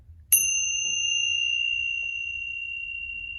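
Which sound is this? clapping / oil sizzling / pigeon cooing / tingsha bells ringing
tingsha bells ringing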